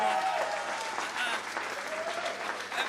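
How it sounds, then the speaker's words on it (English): A conference audience at a business and career summit applauds a speaker, dense steady clapping filling the room at full volume throughout with no pause. "please a round of applause for Dr. Abid Bola."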